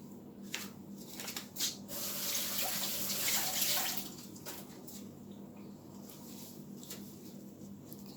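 Tap water runs into a sink while garlic cloves are washed, a steady moderate stream with a brief louder surge in the middle and faint clinks at the start.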